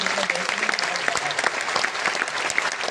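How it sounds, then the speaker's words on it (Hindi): Applause from an audience at a sales or business seminar in India, thanking a doctor who just spoke: a dense, steady clatter of many clapping hands that stays even for the whole stretch, with no voices on top. "तो डॉक्टर मोहन सर के लिए जोरदार ताली चाहता हूँ।"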